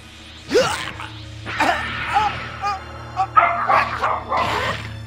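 Dogs in the Dragon Ball Xenoverse video game bark, yip and whimper in several close bursts, loud over a low steady game background hum.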